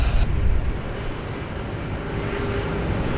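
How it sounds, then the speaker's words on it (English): A Singapore Airlines Airbus A380, flight SQ222, departs Sydney airport for Singapore with a steady, distant engine roar that swells slightly at the start and then holds. "Enjoy the Airbus A380 heading off to Singapore, back home, flight SQ222"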